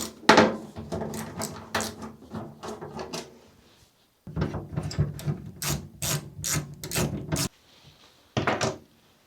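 A ratchet tool clicks rapidly at close range while the mounting screws for hanging hooks and a carry handle are removed, in several runs of quick ratcheting separated by short pauses.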